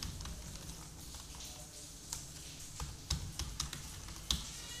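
A computer keyboard taps out an address on an online registration form in quick, uneven bursts of soft clicks, close but faint, with no talking.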